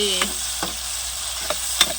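Drumstick curry frying in a pan with its tempering, giving a steady soft sizzle broken by a few sharp scraping stirs spaced across two seconds.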